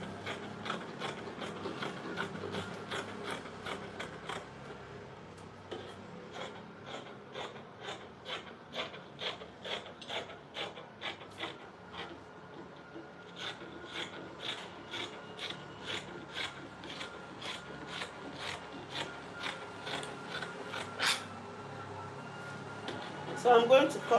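Scissors snip through skirt fabric in a steady run of short, rasping cuts, each crisp and close, repeating at an even pace with occasional brief pauses.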